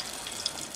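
Water is poured into ground masala for Karwari-style dal, a soft, steady trickling splash heard close and alone for under a second, with one tiny bright clink partway through.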